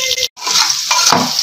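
Onions frying in hot oil in a pot as a spoon stirs them: a loud steady sizzle broken by a brief silent gap, with scraping stirs against the metal.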